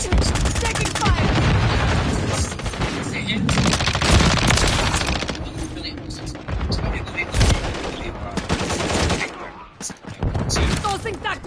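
Rapid automatic gunfire and bursts of shots from a Call of Duty: Modern Warfare 3 match, loud and nearly continuous, with booms and brief lulls under intermittent player talk.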